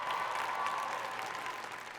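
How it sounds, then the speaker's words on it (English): Steady applause from a crowd at a college commencement ceremony, dense clapping filling the whole stretch at an even level and easing off slightly toward the end. "I was gonna say give yourselves a round of applause,"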